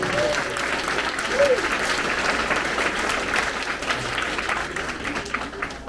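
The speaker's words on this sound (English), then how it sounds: "So give them one more big round of applause" Audience applause at a sixth grade elementary school promotion ceremony, steady sustained clapping from a crowd of families with a brief voice or whistle rising above it.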